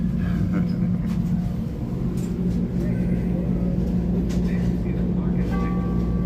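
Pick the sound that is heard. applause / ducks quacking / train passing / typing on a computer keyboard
train passing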